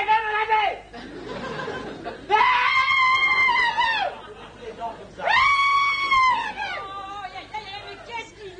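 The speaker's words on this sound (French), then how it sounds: "Mais qu'est-ce qu'il a à hurler comme ça?" A voice lets out loud, drawn-out screams in two long wails, with chattering and laugh-like sounds in between. The voice sounds close and strained.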